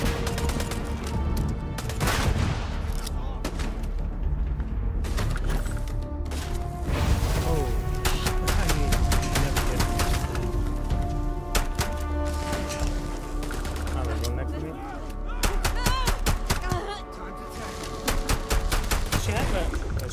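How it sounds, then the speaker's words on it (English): Rapid gunfire bursts and single shots in the space game Starfield, loud and dense throughout, layered over game music and effects with a voice talking over the fighting. "Just shoot everything!"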